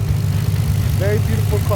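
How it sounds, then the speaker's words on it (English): A tuned Toyota Supra of about 800 hp, fitted with aggressive cams, idles with a choppy, lumpy low rumble, steady and close, while a voice talks briefly over it near the end. "You hear it chopping because it's on some cams"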